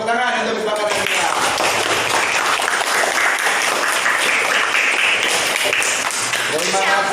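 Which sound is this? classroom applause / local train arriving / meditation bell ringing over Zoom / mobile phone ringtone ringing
classroom applause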